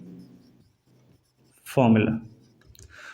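A marker or chalk scraping briefly across a board while a formula is written in a maths class on polynomials, heard as a short scratchy stroke between bits of a teacher's speech.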